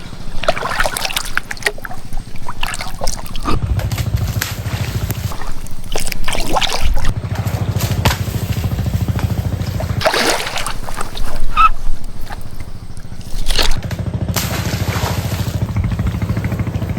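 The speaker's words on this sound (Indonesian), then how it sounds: "Kalian bisa dengar pantainya dekat kali tuh." Surf breaking on a nearby island beach, waves washing in and out in irregular surges with hissing splashes rising and falling, fairly close, with no talk.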